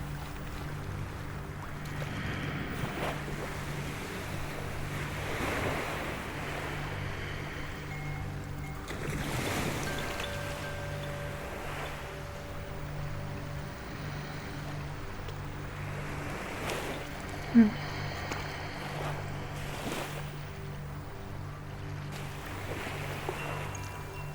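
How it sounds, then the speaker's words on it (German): Ocean surf washing onto a sandy beach, a steady broadband wash of breaking waves with gentle swells rising and falling throughout, calm and continuous with a brief sharp click midway and no voices. "bis in die Unendlichkeit wird es Wellen an den Strand spülen"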